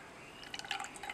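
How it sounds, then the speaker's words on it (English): A liquid layer drains out of a glass separating funnel in a short run of quiet, irregular drips and trickles over a soft background hiss. "Now drain off and separate the bottom layer including the precipitate."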